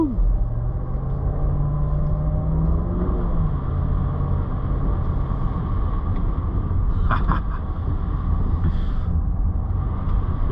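A Range Rover L322 with a 4.4 TDV8 engine driving in snow, giving a steady low engine rumble from inside the cabin, with a brief rising engine note early on and a few faint clicks.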